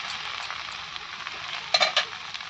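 Ginger-garlic paste and spices fry in a pan for a rohu fish and taro curry, making a constant close sizzle that flares into a few louder crackling bursts near the end as the mixture is stirred.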